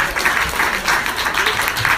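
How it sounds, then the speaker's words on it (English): A comedy show audience breaks into applause, a loud, continuous patter of many hands clapping close by, holding at an even level throughout. "Can't stop getting applause breaks."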